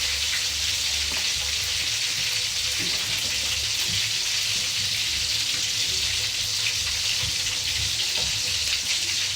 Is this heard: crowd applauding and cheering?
no